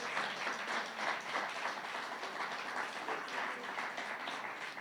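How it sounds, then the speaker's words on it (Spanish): Church congregation applauding God during a Spanish-language Sunday school sermon, a steady dense wash of clapping that stays fairly faint and even for the whole stretch, with no clear voices over it. "si vas a aplaudir a Dios, apláudelo"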